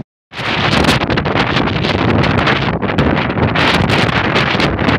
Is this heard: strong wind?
yes